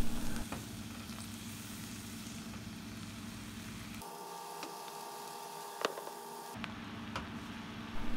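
Mushroom slices hit hot oil with tender minced onion in a small pot, giving a steady close sizzle of frying that drops away briefly midway, leaving a low hum, then returns.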